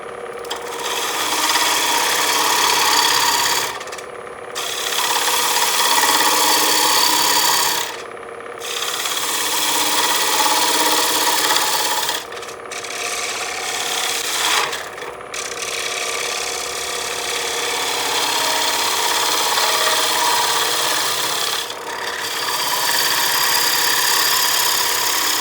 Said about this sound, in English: Trying to do as much of this as I can with the gouge